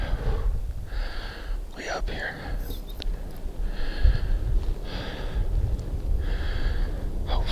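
Heavy, rhythmic panting from a hunter climbing a mountain ridge in Idaho on a spring turkey hunt, close breaths in repeated bursts with a few quiet spoken words.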